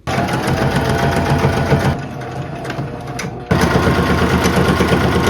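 Loud, close sewing machine straight-stitching a band back onto thrifted clothing, a fast steady whir of needle strokes that pauses briefly in the middle, then resumes at full speed.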